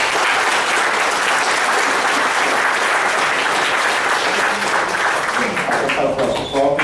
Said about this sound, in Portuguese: gostaria que batesse nas palmas para todos